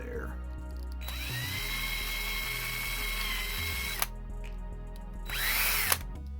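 A power drill bores into a die-cast metal casting, its steady whining motor running for about three seconds, stopping briefly, then spinning up again louder, with faint bumps and handling noise in between.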